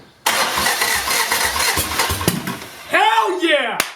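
A 1978 Toyota Corolla engine with a carburetor cranks and catches, settling into a rough idle, then is revved sharply twice. A voice cheers loudly over the revving.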